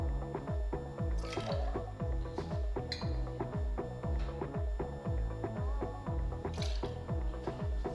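Cointreau is poured from the bottle into a measure for a Sidecar cocktail, a steady glugging liquid stream with rhythmic bubbling pulses, close and fairly loud, with no talking.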